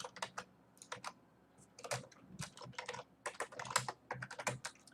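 Rapid typing on a computer keyboard, close-up clicky keystrokes in uneven bursts with brief pauses, quiet and alone.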